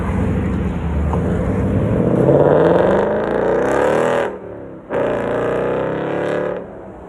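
The exhaust of a 2020 Ford Mustang GT 5.0 roars through a loud rev that climbs, drops out abruptly, then comes back for a second rev. It is close and no one talks over it.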